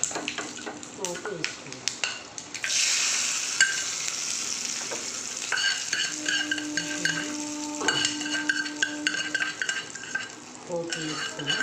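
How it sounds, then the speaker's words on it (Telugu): Spices for a tempering crackle and sizzle in hot oil while a utensil stirs and clinks against the pan, in a home kitchen alongside a mint-tomato chutney, with the frying steady at moderate level and occasional brief taps. "మనం పోపు వేసుకుందాం."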